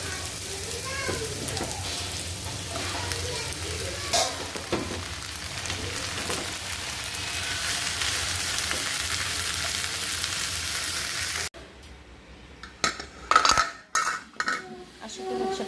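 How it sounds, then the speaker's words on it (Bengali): Chopped okra fries in a pan with a steady close sizzle and occasional utensil clinks, then the frying stops abruptly and a few sharp clatters follow in a quieter room. "এখন হচ্ছে ঢেঁড়সটা একটু ভাজি"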